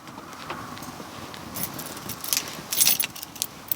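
A bunch of keys jangles and clinks briefly, faint and close, with a few brighter rattles near the end over quiet background.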